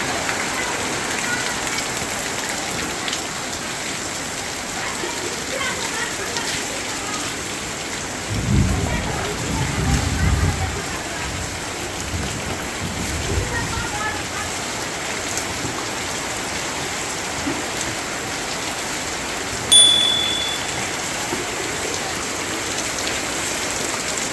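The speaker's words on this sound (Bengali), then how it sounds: "বৃষ্টি হচ্ছে" Steady rain pours down on a rainy afternoon in a continuous hiss, with a low rumble of thunder partway through and a brief sharper patter later on.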